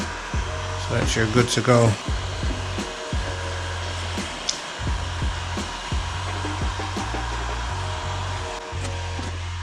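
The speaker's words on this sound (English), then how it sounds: "So I'm just applying heat to it. This activates the adhesive, makes it stick" Heat gun blowing hot air onto an adhesive-backed panel during a DIY switch panel build, a steady loud airy whoosh running throughout with a few clicks, while a person talks briefly.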